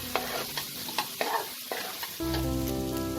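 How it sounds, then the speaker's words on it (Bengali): Fried potatoes scraped and stirred with spices in a pan for a dry potato curry, several distinct spatula strokes, then a steady close sizzle takes over, no voices. "এবার আমি এতে ভেজে রাখা আলুগুলোকে অ্যাড করে দিলাম। আলুর সাথে মশলাগুলোকে ভালো করে মিশিয়ে নেব।"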